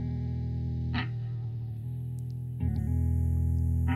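Electric guitar loop run through a Chase Bliss Generation Loss tape-degradation pedal on its extreme 56k modem setting, a heavily processed, warbling, distorted tone that sustains throughout with short bright bursts around each re-attack.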